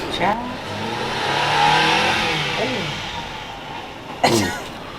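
A car engine revs close by, climbing and falling in pitch over several seconds before a sharp, loud burst near the end.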